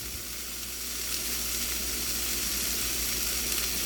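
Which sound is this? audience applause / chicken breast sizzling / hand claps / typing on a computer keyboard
chicken breast sizzling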